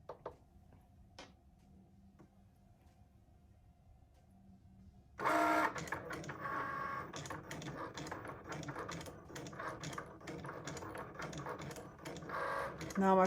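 A Cricut machine writing a message on a card starts partway through and runs with busy, rhythmic mechanical clicking and whirring, after a quiet stretch of faint ticks.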